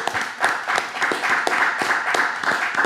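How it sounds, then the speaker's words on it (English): Hands clapping in a quick, fairly even rhythm, close and loud, a sustained run of sharp claps lasting a few seconds with no talking over them. "Clap it up for a real nigga."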